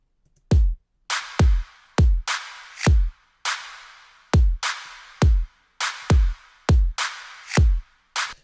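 A simple generic pop beat in a future bass track, a drum loop of punchy low kicks and bright claps struck at a steady, evenly spaced rhythm, loud and dry with no voices.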